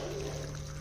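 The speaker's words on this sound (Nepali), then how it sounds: "तातो पानी मजाले हालिदिने" Hot water poured from above over fish in a pot on a gas stove while making Naga-style fish curry, a short steady pouring splash heard alone.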